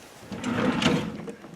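A drawer in a home workshop slides open or shut in one smooth, close rolling scrape lasting about a second, heard alone without talk.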